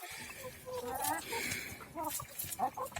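Backyard chickens scratch and forage around a compost pile of old tree stump, giving soft clucks and murmurs at close range with a few brighter calls.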